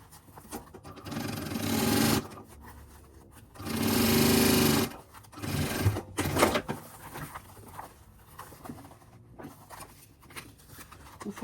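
A sewing machine stitches a fabric lining for an expandable toiletry bag, running in loud close bursts of rapid mechanical whirring separated by quieter handling clicks and rustles.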